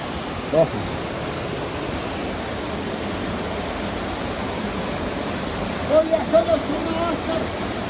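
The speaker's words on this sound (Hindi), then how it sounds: "पानी के फ्लो में वाकई बहुत इजाफा नज़र आ रहा है।" Rushing water of a cold mountain stream in Kohistan, a steady broadband roar running throughout, with a few brief louder splashes near the start and close to the end.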